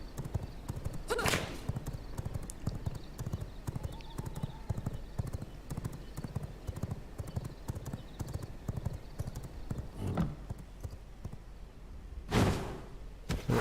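Horse hooves clip-clop steadily in the V Rising video game, a continuous moderate trotting rhythm with a few louder whooshing thumps along the way.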